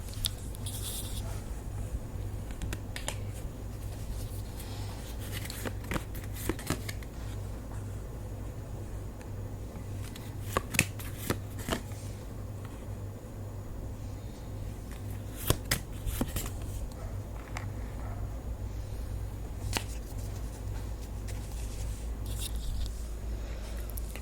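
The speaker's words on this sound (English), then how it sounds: "Let's pull some more cards on this and see what's happening here for you." Tarot cards being shuffled and handled, a quiet patter of soft riffles and card flicks repeating irregularly over a low room hum.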